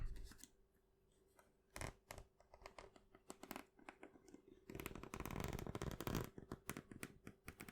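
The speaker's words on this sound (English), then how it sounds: "Good old zipper sounds." Quiet, close scratchy rasps and clicks come in irregular bursts, ending in a longer continuous rasp as a zipper on a Nintendo 3DS case is drawn slowly open, with no talking.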